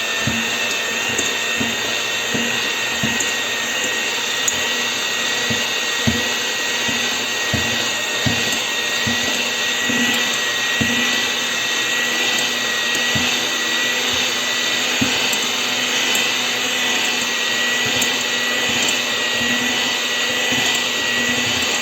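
Sugar cookie dough being mixed with a steady electric mixer whir, a continuous motor hum lasting throughout with faint irregular knocks and clicks against the bowl, no talking.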